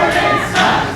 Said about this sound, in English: leading the crowd in an anti-Jordan Styles chant